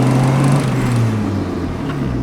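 A Honda Civic with a fault that limits it to about 2,000 RPM is floored, its engine droning loud and steady for a brief moment before easing slightly.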